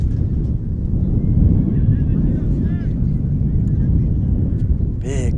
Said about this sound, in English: Big gust of wind blows through Kennedy.